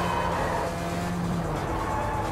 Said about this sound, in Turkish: şey arabası geçti ama. Posta arabası.